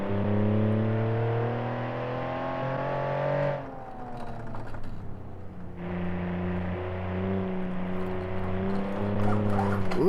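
Car accelerating in the driving game BeamNG.drive, a sustained engine drone with rising harmonics, a brief lift around the middle before the power comes back on, steady and loud, no talk.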